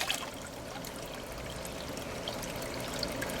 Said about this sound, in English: As you can see, the amount of water going in is a little bit faster than I need it.